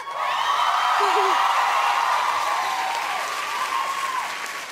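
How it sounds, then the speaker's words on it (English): Studio audience applause and cheering from a competition show fills the space loudly and steadily, with whoops and a voice calling out over the dense clapping. "Listen to that applause."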